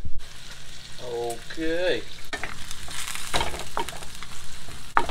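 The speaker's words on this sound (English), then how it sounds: "Bacon's on. You can hear it sizzle." Bacon sizzles and crackles steadily in a frying pan, loud and close, with stirring noises and a brief spoken word over the frying.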